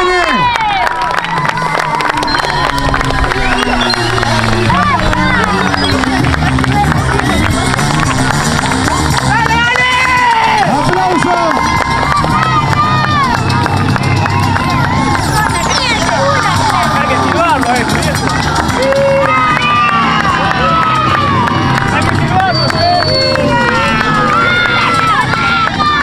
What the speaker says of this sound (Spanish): Vamos a darle la bienvenida al señor con un fuerte aplauso de la reforma